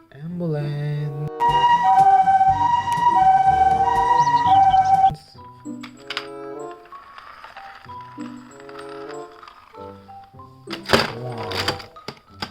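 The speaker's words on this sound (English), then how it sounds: "Police ambulance." Toy police ambulance siren playing an electronic melody of steady tones for about five seconds, then looser beeps and a short loud burst near the end, close and fairly loud.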